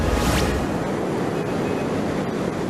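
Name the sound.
strong flood water current rushing at a dike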